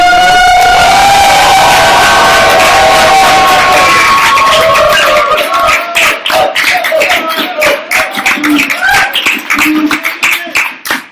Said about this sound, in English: You guys in the crowd, can you just make some more noise